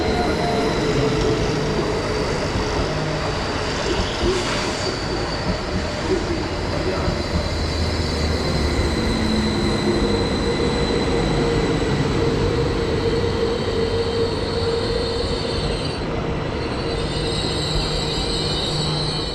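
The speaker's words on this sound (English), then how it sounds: "we can take a look at the arrival of another train to Salzburg." A train pulls into Freilassing station on the route to Salzburg, a steady loud rolling rumble with rail noise and faint wheel squeal, continuous throughout with no talking.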